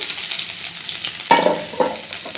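Chopped onion and grated ginger hit hot oil with panch phoron, a sharp burst of sizzling followed by a steady crackle and a couple of stirring scrapes, close and loud with no speech.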